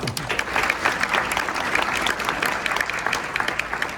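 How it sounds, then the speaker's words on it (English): Sustained round of applause from an audience at a 75th anniversary awards presentation, a full room of hands clapping steadily and fairly loudly without any speech over it. "that warrants a round of applause"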